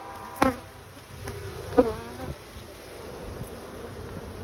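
Honey bees buzz near a beehive while honey is being taken, with faint, steady droning and a couple of louder passes as single bees fly close by, and no voices.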